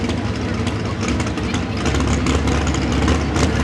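A pulling truck engine idles at a truck pull event, a loud steady low rumble running throughout beneath a background of continuous crowd and announcer-type noise.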